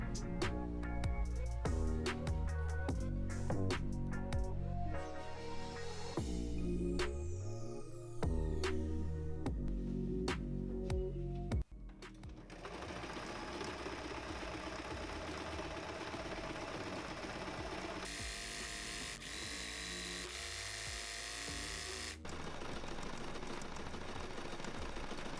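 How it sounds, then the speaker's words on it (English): Background music plays for roughly the first half, then a sewing machine takes over, stitching a swimsuit with polyester thread in a steady, continuous mechanical whir. "I don't know why my machine don't sew with stretch needles"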